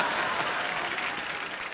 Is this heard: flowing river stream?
no